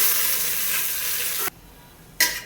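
Leafy greens with garlic fry in a pan, giving a steady, loud sizzle that suddenly drops away for a moment, then bursts back in.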